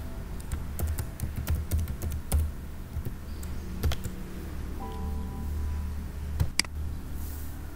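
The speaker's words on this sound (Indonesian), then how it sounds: "Kita ketikkan username Dapodiknya" Username and password typed on a computer keyboard during a login, a quick run of light clicking keystrokes that trail off, close and fairly quiet against faint room noise.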